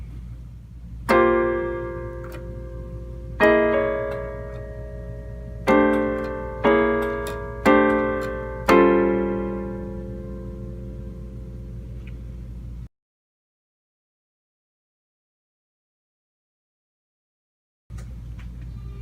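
Piano comping through four bars of jazz chords, six struck chords in an uneven rhythm that ring and decay over a low steady hum, then the playing stops and near silence follows before a faint noise returns.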